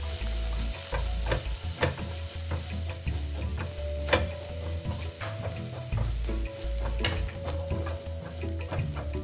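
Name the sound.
stir-frying dried shrimp with fried scallions and garlic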